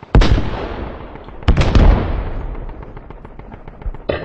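Gunfire in the video game Squad: two loud, close bursts of shots, each trailing into a rolling echo, followed by scattered faint rapid shots and a final sharp crack.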